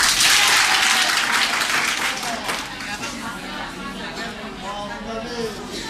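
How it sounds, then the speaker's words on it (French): Audience applauding in a room for an NGO's administrative secretary, dense clapping loudest at first and then tapering to a softer, steady patter. "on l'applaudit pour ça"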